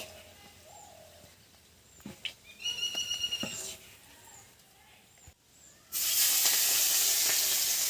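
Soft bird coos and quiet kitchen noises, then a sudden loud burst of hissing sizzle as prawns hit hot oil in a wok and keep crackling.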